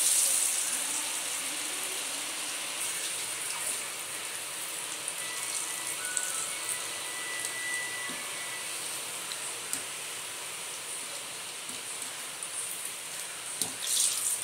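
Water pours steadily from a kitchen tap during cooking of chana dal vadas, a continuous even hiss and splash holding at a moderate level throughout with no voices.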